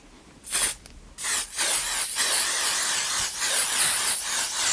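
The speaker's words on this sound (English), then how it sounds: "Make sure you go in with this setting spray" Two short hissing bursts of a makeup setting spray mist, then a longer continuous spray, close and loud, with no talking.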